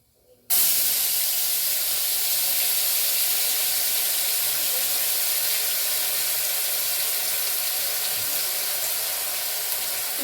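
Ginger garlic paste drops into hot oil after a brief quiet moment, setting off a loud, sudden hissing sizzle that holds steady for about ten seconds.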